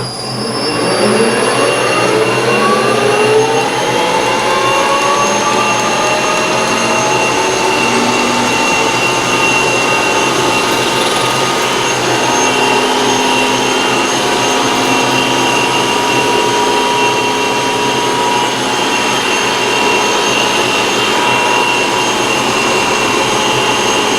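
A metal lathe turns a steel BMW clutch pivot ball down to size, a loud, continuous machining drone with sliding whining and squealing tones that holds steady throughout.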